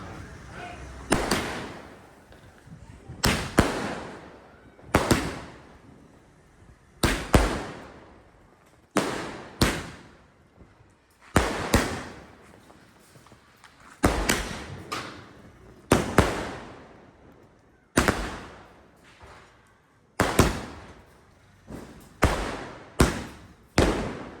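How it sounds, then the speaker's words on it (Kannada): A series of sharp, loud Deepavali firecracker bursts, roughly a dozen spaced irregularly a second or two apart, each followed by a short fading echo. "ಪಟಾಕಿ ಎಲ್ಲ ಹೊಡೆದಾಯ್ತು"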